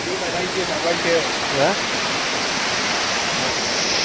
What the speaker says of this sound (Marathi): हा तिसरा वॉटरफॉल आहे इथे आलेलो आहोत